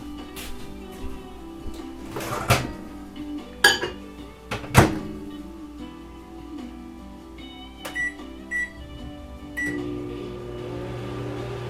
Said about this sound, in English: So I'm going to put it in this little bowl and just melt it in the microwave.